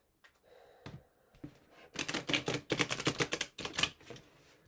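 Tarot cards from a Frequency Tarot deck are shuffled close up in quick rapid riffles, a rising run of crisp flicking and rustling after a few soft taps.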